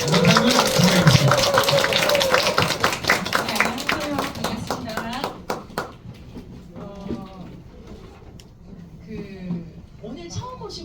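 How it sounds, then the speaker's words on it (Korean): An audience claps to welcome a lecturer at a Korean lecture; a dense burst of applause fills the first half, then thins out into scattered claps and people talking. "우리 강사님 소개할 때 박수로 환영해 주시기 바랍니다"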